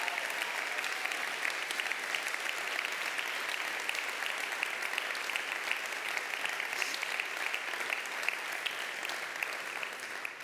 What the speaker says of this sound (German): Also nochmal bitte einen richtig fetten Applaus.